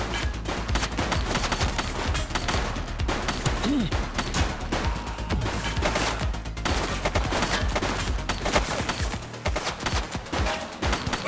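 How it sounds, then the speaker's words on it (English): Dense, continuous automatic gunfire from a police shootout in the video game The Precinct, rapid overlapping bursts filling the whole stretch at steady loud level with no voices. "Shots fired!"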